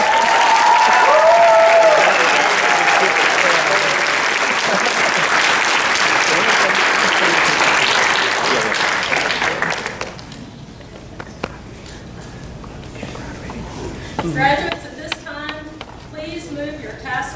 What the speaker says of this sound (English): Please give another round of applause for our ranks.